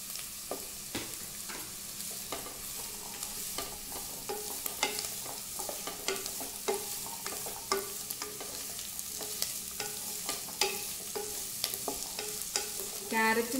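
Carrots being stirred into a frying pan for carrot ginger soup, with a steady sizzle under repeated scraping strokes of a spoon, fairly close and moderately loud throughout.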